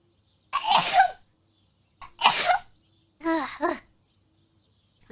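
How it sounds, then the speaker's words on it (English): A person sneezes, with three loud bursts separated by silence: two sharp sneezes followed by a final voiced, throaty one. "Hold on, I have to sneeze."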